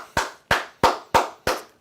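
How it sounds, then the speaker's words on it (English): Five sharp, single hand claps in an even, slow rhythm, close and distinct with silence between each. "Clap it up to him."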